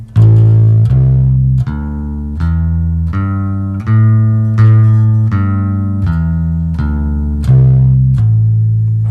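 Bass guitar plays a five-note minor scale up and then back down, each note plucked cleanly and sustained in an even, steady rhythm, close and loud with no talking.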